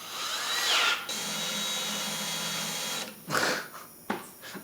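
A power drill fitted with a screw extractor bit whirs steadily for about a second, then runs in a long, even drone before two shorter bursts. It is close and clear, with no talk.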